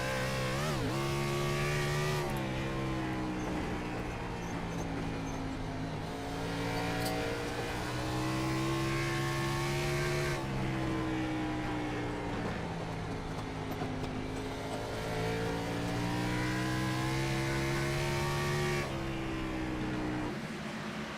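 A stock car engine screams at full throttle from the in-car camera in a racing video game at Bristol. The roar is loud and continuous, with the pitch swooping down and climbing again several times through the corners. No voices.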